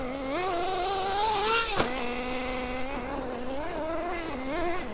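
A vintage Associated RC10GT nitro RC car engine screams steadily at high revs, the pitch wavering up and down with one sharp blip partway through, loud and close throughout.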